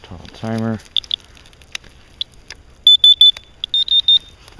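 A radiation counter being set up outdoors in the snow gives a series of sharp electronic beeps, single chirps then quick double and triple bleeps, close and clear, with a brief low buzz near the start.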